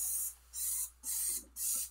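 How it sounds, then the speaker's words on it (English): Dawn Powerwash cleaner sprays from its nozzle onto dirty oven surfaces in four short hissing bursts, each about a third of a second long, evenly spaced and close to the mic. "And so we're going to spray down all the surfaces."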